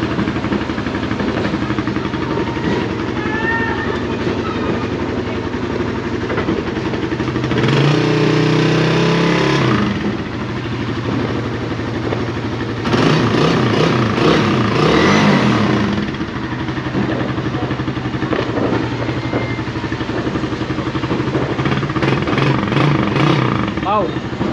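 An old Suzuki Raider 150 motorcycle engine starts and revs in bursts, loud and close, over steady background noise, with a voice talking throughout.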